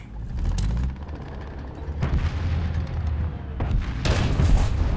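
Loud tank cannon blasts in a tank combat video game, several heavy booms with rumbling tails, the sharpest and loudest shot near the end, heard alone without talk.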